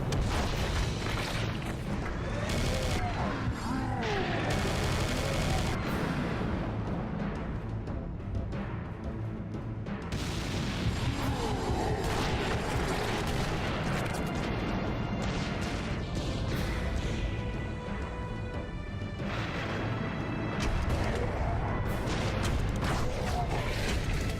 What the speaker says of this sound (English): Handheld, man-portable artillery.